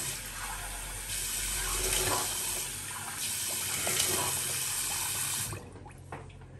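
Cold water runs steadily from a tap in a workshop sink, a broad continuous splashing that keeps a fairly even level before cutting off near the end, with no talk.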